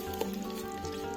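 Sliced onions hit hot oil in a pan for a shaljam chicken curry, giving a soft, steady sizzle with a few small crackles over one brief quiet moment.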